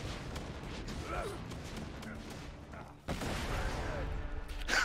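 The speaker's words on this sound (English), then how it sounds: "Somebody pulled out a rocket launcher." Rocket launcher fire and blasts in Borderlands 2, a steady rumble of weapon fire and explosions with a sharp louder burst partway through, moderately loud, with voices chatting over it.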